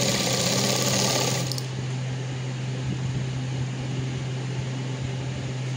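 A sewing machine stitches a short frock, whirring in a steady, loud mechanical hum at close range; the sharper high clatter drops away after the first second and a half, while the motor drone carries on alone.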